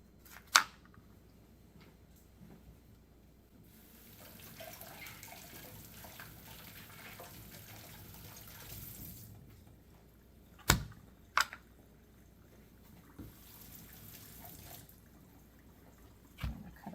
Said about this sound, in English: I'm going to rinse my knife off, and I'm going to rinse my onion off.